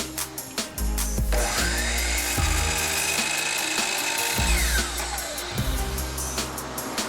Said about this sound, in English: cutting 45-degree corners in a miter saw